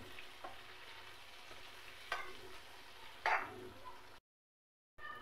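Coarsely ground masala for mango pickle being stirred in a pan, with a soft, low sizzle, a few faint scrapes and one sharper clatter before a brief drop to silence.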